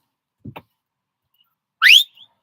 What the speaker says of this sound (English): Did you guys hear that whistle?